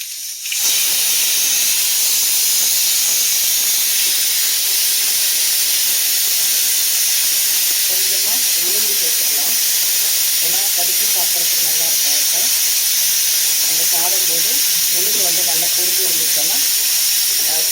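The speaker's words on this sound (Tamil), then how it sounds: "கட் பண்ணி வச்சுருக்க வெண்டைக்காய் எடுத்து அதை சேர்த்துக்கலாம்" Cut okra hits a hot pan and sizzles loudly, a steady bright frying hiss throughout, with someone speaking over it partway through.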